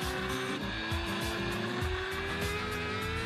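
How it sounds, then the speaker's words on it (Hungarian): An older Red Bull Racing Formula 1 car laps Moscow Raceway, its engine a loud continuous high-pitched howl with rising gear pitch sweeps, heard from a distance over steady track noise. "Egy korábbi fejlesztésű Red Bull Racing F1-es autóval körözött a Moszkva Raceway-en."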